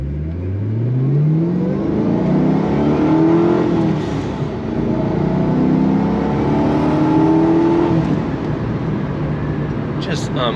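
A 2005 Ford GT supercar with a manual transmission drives with a loud, steady engine drone that rises and falls as it climbs through the revs and shifts, heard from inside the car without speech.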